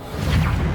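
A Reparo repair spell in the Hogwarts Legacy video game sounds as a brief, dense magical whoosh that swells and holds for under a second.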